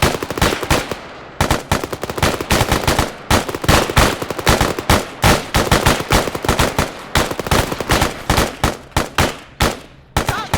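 Machine guns fire continuously in the military video game Arma 3, with loud, dense overlapping bursts and rapid volleys that keep going almost without pause.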